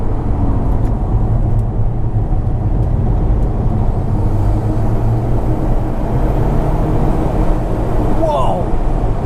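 Alfa Romeo 4C Spider accelerating hard on winter roads in all-weather mode, a steady loud engine drone and road rumble heard from inside the cabin with no clear change in pitch.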